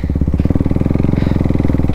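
A motorcycle is ridden with its engine close and loud, a rapid, even pulsing throb that holds steady with a slight rise in pitch.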